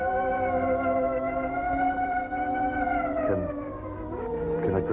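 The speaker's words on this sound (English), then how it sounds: "The ambulance." An ambulance siren in an old Hollywood film wails loud and continuous, holding a strong tone before dipping and sliding in pitch toward the end, with no speech over it.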